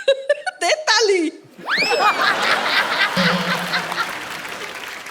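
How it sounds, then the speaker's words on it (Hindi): On The Kapil Sharma Show set, brief laughing and voices give way to steady studio audience clapping that carries on evenly to the end. "दे ताली।"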